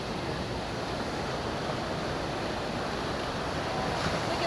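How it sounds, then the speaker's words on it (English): Waves wash steadily onto a Florida beach with rock formations, a continuous broad roar mixed with wind buffeting the microphone and no distinct breaks. "So check out this beach. It's so unique with all the rock formations here."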